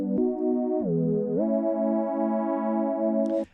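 An atmospheric lead synth patch from Native Instruments Massive plays a sustained, buzzy note that dips in pitch, then rises and holds with a spacious, reverberant tail before cutting off.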